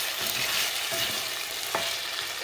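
Potatoes sautéing in a pan produce a continuous soft hiss of frying with occasional scraping stirs and light clicks of the utensil, steady and moderately close, with no talking.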